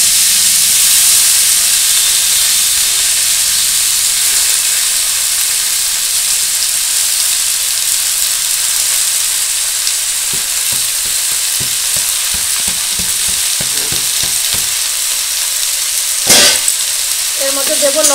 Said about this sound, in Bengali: এবার শাকটা ভেজে নেব।